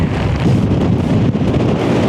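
Strong wind buffets the microphone atop the Mala Hoverla summit in the Carpathians, a steady loud roar with gusty surges throughout and no voices.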